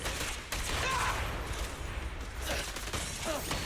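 Gunfire in Zenless Zone Zero combat, a fairly quiet, continuous clatter of rapid shots mixed with impacts and mechanical clicks throughout.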